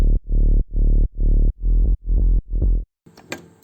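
A remade instrumental built in FL Studio plays back with six heavy sub-bass chord hits in a steady pulse, ending in a brief burst of distorted, crackly texture.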